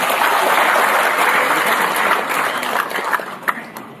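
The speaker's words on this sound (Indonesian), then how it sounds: "Tepuk tangan." An indoor audience claps loudly at a formal government gathering, dense applause that thins and fades toward the end with a few scattered claps.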